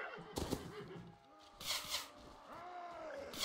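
Horse neighing amid a cavalry battle in the Mount & Blade Warband video game, a wavering whinny near the end, preceded by sharp bursts of battle noise and clatter.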